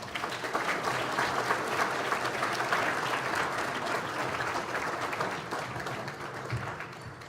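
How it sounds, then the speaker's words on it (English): A round of applause at a hall of fame banquet in Elgin, Illinois, steady clapping from a large seated audience, slowly tapering toward the end. "if we have a round of applause for Mr. Kim"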